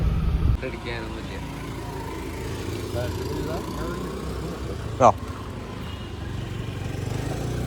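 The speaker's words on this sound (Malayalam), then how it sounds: "കുറച്ചു നേരം വണ്ടി ഇങ്ങനെ ഓണായി കിടക്കട്ടെ കേട്ടോ." A car engine idles on a used car being inspected. It gives a low, steady hum under intermittent talk, with a sharp click or knock midway.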